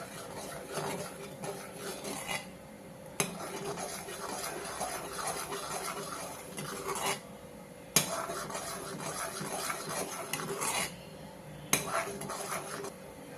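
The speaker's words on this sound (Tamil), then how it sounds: "கிண்டி விட்டுக்கலாம்." Coconut rice payasam for Vishu stirred in a pan, with faint rhythmic scraping and metallic clinks of a spoon against the pan, coming in several bursts separated by short pauses.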